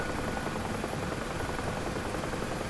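A UH-1H Huey helicopter in the DCS flight simulation game makes a steady, dense rotor-and-turbine roar that stays loud and unbroken for the whole stretch, with no talk over it.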